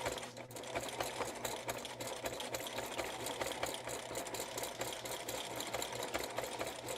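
A sewing machine runs continuously, stitching back and forth over elastic with a rapid, steady mechanical chatter close to the microphone.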